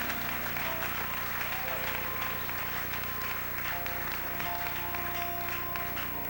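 Church congregation applauding at a 2004 evening sermon by Pastor Jorge Garcia, a steady, dense wash of clapping held at even loudness throughout, with faint tonal sounds and murmuring mixed underneath.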